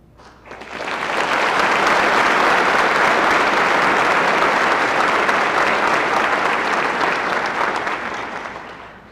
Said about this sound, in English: Please hold your applause until the remainder of graduates have been recognized.